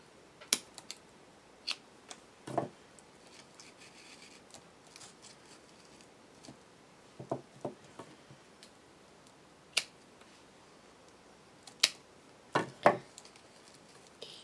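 Scissors trimming paper craft pieces for a Christmas lantern give quiet, scattered snips and clicks at irregular intervals, with a few sharper cuts clustered near the end and no talking.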